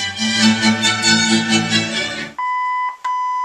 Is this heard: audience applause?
no